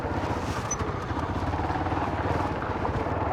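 Hero motorcycle ridden along a rough, bumpy road, its engine a steady close drone with rattling clatter and no break in the noise.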